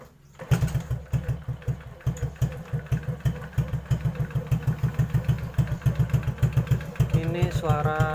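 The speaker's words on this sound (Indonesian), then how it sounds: "Saya hidupin dulu motornya." A Honda Supra X 125 motorcycle fitted with an FU exhaust starts up and settles into a steady, loping idle with rhythmic low pulses, close by, a brief voice near the end.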